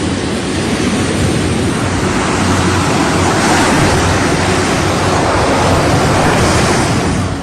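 Ocean surf rolling onto a beach in a steady, loud wash of breaking waves with wind noise, continuous throughout with no voices.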